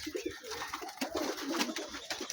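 Pigeons coo softly in a loft, several low, throaty calls overlapping in a close, continuous murmur with faint rustling.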